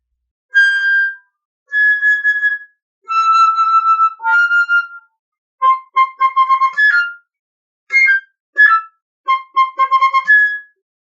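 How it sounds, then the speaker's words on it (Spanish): A flute plays a bird-like melody of short trills and sustained bright notes in separated phrases, clear and close with silence between them. "la melodía que le silbaba de la ugeca, traducida, digamos, o llevada a la flauta, suena así."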